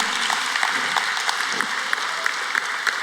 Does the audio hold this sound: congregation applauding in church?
yes